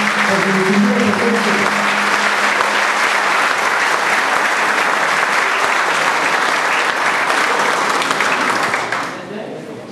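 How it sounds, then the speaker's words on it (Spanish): Loud sustained applause from a crowd at a cultural society gathering of an oil workers' union section, dense clapping with faint voices mixed in, continuing for many seconds before tapering off at the end. "Vamos a daros un fuerte aplauso a todos ustedes."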